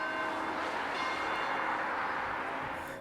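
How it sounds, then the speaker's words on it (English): An 1825 church bell rings in the tower of Bolton Community Church, giving a sustained, reverberant metallic tone that hangs steadily and slowly fades, heard at moderate distance with no talk. "have taken turns ringing the 1825 bell in the tower of the Bolton Community Church"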